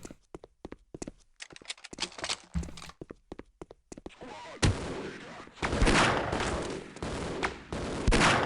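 Video game gunfire in a custom map, starting as sharp single shots that quicken into dense, loud bursts of rapid fire in the second half, with no talk over it.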